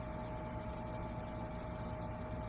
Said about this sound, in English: You might hear a slight buzzing in the background.